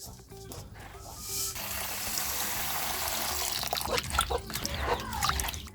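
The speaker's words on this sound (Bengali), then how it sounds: "চাল ভালো করে ধোয়া হয়ে গেছে," Rice being washed in water, with splashing, trickling and dripping as it is swirled and rinsed, close by and continuous.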